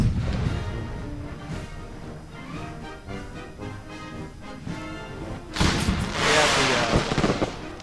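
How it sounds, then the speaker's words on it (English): Cannon artillery fire in the video game Empire: Total War, American Civil War mod, with repeated booming shots over background music, then a louder burst of blasts and crackling debris near the end while someone talks. "Not very accurate with these cannons."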